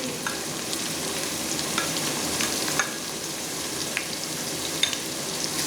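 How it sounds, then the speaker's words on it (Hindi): Onions frying in hot oil for a bottle gourd (lauki) sabzi, a steady dense sizzle and crackle throughout with small pops, close and loud. "अब मैं इस वक्त इसमें प्याज डाल दूँगी।"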